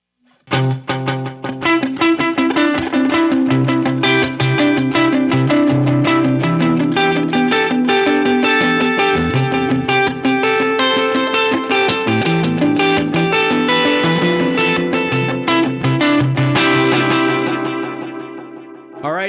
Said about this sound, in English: the first thing I added was a tile reverb to this sound